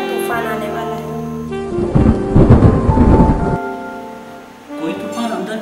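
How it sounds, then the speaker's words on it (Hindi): A loud rolling rumble of thunder swells and fades amid rain noise, set against sustained music. "यार जमकर बारिश लगता है बहुत बड़ा तूफान आने वाला है।"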